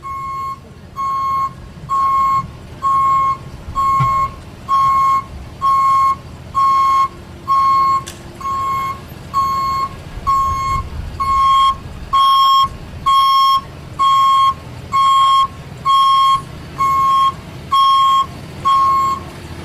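Loud, evenly spaced reversing beeps from a truck backing up, a single high tone repeating about once a second with a low engine rumble beneath, no talk.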